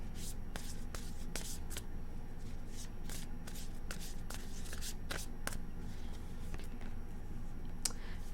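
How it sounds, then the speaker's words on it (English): Tarot cards shuffled by hand, a run of crisp riffling bursts and soft card slaps repeating across the stretch, close up over a steady quiet room hum. "Do two more shuffles."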